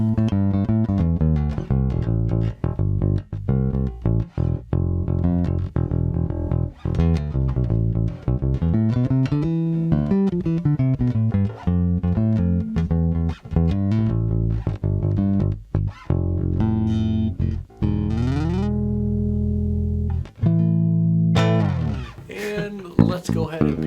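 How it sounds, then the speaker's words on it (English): A Valenti V21-J4 bass guitar with Nordstrand Big Singles pickups and a 2B preamp, neck pickup soloed, plays a loud, busy line of punchy plucked notes and slides, close and alone. "Here's what that sounds like with the neck pickup soloed."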